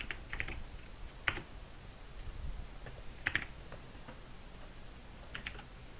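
Computer keyboard typing in short bursts, a few quick clusters of keystrokes spread over a few seconds against a quiet room hum, with no talking.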